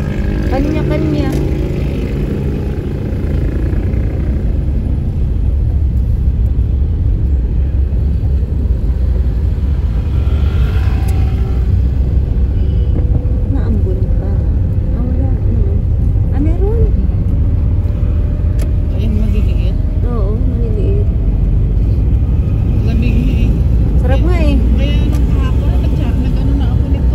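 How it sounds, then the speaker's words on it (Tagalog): Heavy road traffic on a busy road near Christmas, a continuous loud rumble of car and motorcycle engines with passing vehicles, horn-like tones and people talking throughout. "Malapit na ang Pasko, iba talaga ang traffic ano."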